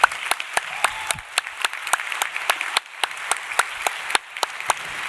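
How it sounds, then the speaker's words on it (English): Luncheon audience clapping for a women-in-leadership panel, a crowd applauding in a fairly sparse, even rhythm with a few sharp individual claps standing out close by. "We'll give them a round of applause"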